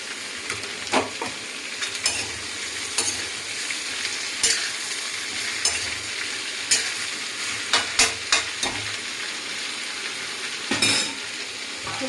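Hot oil sizzling steadily as whole spices are tempered in a pan, with scattered sharp clinks and scrapes of a spoon against the pan, close and without talking.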